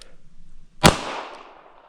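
A single sharp pistol shot from a S&W Bodyguard 2.0 at an outdoor range, fired at a 50-yard target, loud and close with a short ringing tail and no talk.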